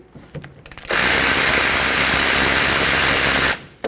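Ratchet wrench working on a 14mm caliper bolt on a 2006-2010 Hyundai Sonata, a few faint clicks, then a loud continuous mechanical whirr lasting about two and a half seconds before stopping abruptly.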